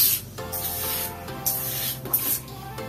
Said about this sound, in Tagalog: Tapos, spray natin sa helmet natin. Sa foam, sa mga lining,